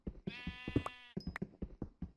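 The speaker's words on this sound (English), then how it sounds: "Well, I hear sheep, so I guess that's good." Sheep in the video game Minecraft bleat several times in quick succession, clear wavering calls that stand out against a quiet background with no talking.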